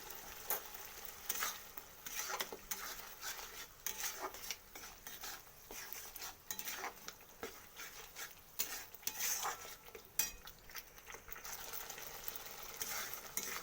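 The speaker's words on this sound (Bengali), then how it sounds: "এরপর এটাকে ভালো করে আরও কষিয়ে নেব" Katla fish masala with green chili and salt is stirred and fried in a pan, a soft continuous sizzle punctuated by repeated scraping and clattering strokes of a spatula, fairly quiet and close, with no talking.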